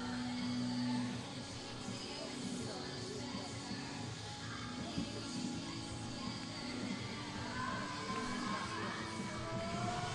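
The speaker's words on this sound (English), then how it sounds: "Some excited Serbs in the crowd here to watch this." A Serbian crowd murmurs and stirs in an arena at a youth Olympic men's +85 kg weightlifting event, steady distant crowd noise throughout with faint talk mixed in.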